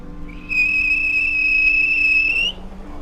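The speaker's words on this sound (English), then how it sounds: "The guard blew his whistle." A railway guard blows a whistle in a single long, shrill, steady blast of about two seconds that is loud and close, with a faint background hum before and after it.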